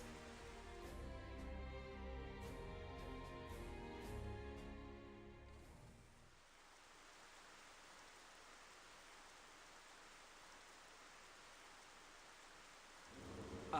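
Steady rain hisses in Xenoblade Chronicles, first with soft chiming musical notes over it, then continuing alone as a dense, even downpour, with a low rumble returning at the end.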